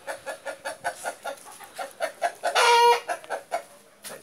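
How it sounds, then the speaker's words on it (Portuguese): Índio Gigante rooster clucking in a steady series of short, close calls, then breaking into a loud, sustained crow, followed by more clucks; setting is a farm with separate stalls. "Esse galinha eu gostei dele."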